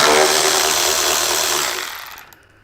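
A power tool loosens the outer fairing bolts on a 2015-or-newer Harley Road Glide, a loud close continuous whirring buzz that runs for about two seconds and then winds down and stops.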